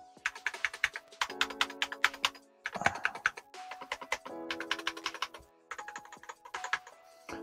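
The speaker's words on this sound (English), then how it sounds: "that aluminum plate's loud," Fast typing on a Gamakay TK75 mechanical keyboard with an aluminum plate, crisp clacky keystrokes with a hollow ring in quick bursts with short pauses, close and fairly loud.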